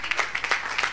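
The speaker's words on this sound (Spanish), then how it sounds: "otro aplauso para ella mientras viene" Brief, scattered clapping from a small audience at a science outreach event, a handful of uneven claps spread over a second.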